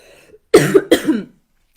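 Two close, loud coughs in quick succession, each a short throaty burst, with near silence before and after.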